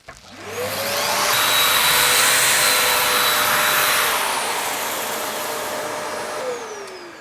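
Evolution R225DWS drywall sander with a vacuum hose attached, a steady loud whirring drone that spins up, holds for several seconds with a faint high whine, then slows and winds down.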